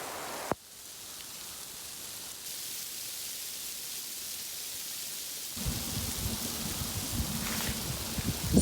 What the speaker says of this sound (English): We're hitting a little bit of snow and sleet right now